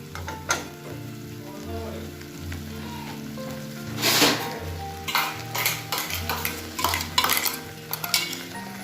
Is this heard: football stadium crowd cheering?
no